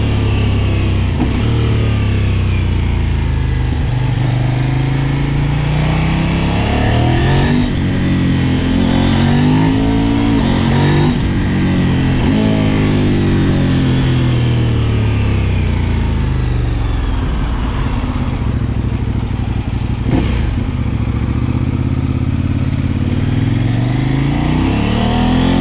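A Kove 800X Pro adventure motorcycle engine roars close and loud, revving up and dropping back repeatedly as it climbs through gears in continuous acceleration.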